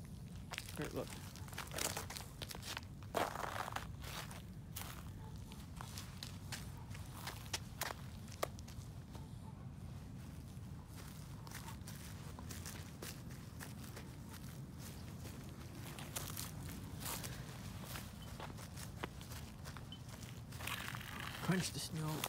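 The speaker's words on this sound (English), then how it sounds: "Crunch the snow, crunch the snow." Footsteps crunch steadily through snow close by, with a continuous walking rhythm of crisp crunches and a few louder steps.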